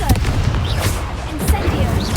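Repeated Confringo blasting-spell explosions in the Hogwarts Legacy video game, loud booming bursts with crackling debris over a busy wash of battle noise, with a voice calling out spells.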